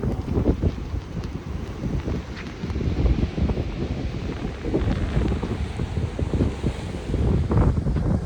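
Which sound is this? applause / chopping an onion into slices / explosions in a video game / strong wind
strong wind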